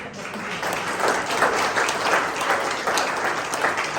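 Sustained audience applause fills a church service, dense steady clapping from a crowd at even loudness throughout with no voices over it.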